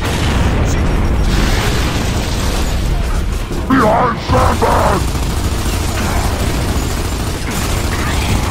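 In Gears of War 2, a frag grenade explosion bursts amid ongoing battle noise, a heavy boom with crackling debris near the middle, under constant gunfire rumble and shouted voices.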